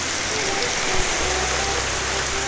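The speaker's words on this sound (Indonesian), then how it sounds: "Hujan ." Steady rain falling near a goat shed, a dense, even hiss of drops on surfaces with a low hum underneath, continuous and fairly loud from start to finish.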